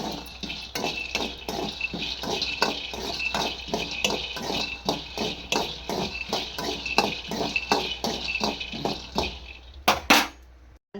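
Peanuts being dry-roasted in a pan for chutney, with a steady run of close, light clinks and scraping stirs against the metal, repeating through the whole stretch before a brief pause.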